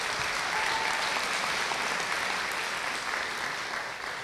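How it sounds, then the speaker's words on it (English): A crowd applauds continuously, a dense, even wash of clapping that holds steady at full volume throughout. "That deserves a round of applause"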